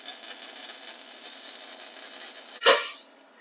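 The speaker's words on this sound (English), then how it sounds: "The sound of a solid weld, man." Welding on a squarebody truck's exhaust pipe during an LS swap: a steady buzzing, hissing crackle that runs unbroken, then a sharp louder burst near the end before it fades.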